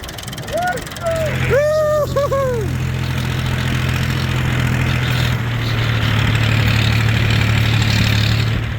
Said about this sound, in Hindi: ये आ गया जी हमारा ट्रैक्टर